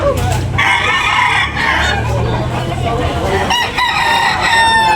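A rooster crows loudly and close by, a long strained call repeated twice with clucking in between.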